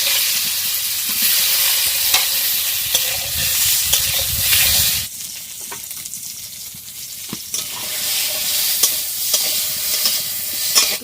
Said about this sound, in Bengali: অল্প একটু তেল দিলাম, আলু কটা একটু ভেজে নেবো।